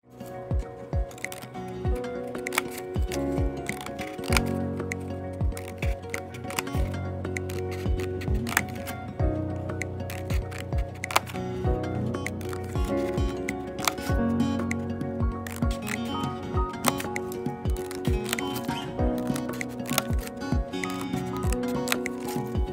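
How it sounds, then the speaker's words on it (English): Scissors cut paper strips from left to right in a steady run of crisp close snips and rustles, continuing throughout without talk. "I will start cutting from the left towards the right"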